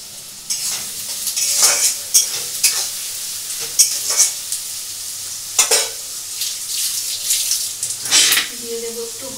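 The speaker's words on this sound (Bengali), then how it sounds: "পেঁয়াজটা ভাজা ভাজা করে নিচ্ছি" An onion fries in a pan in a home kitchen, with irregular scraping bursts from stirring over a steady sizzle, close and moderately loud, and no talking.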